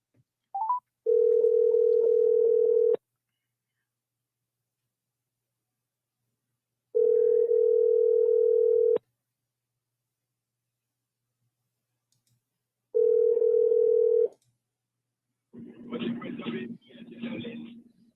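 Ringback tone from a telephone while a call is being placed to a consumer, three long steady two-second rings separated by silent gaps, clear and close, followed by a brief burst of voice as the line answers.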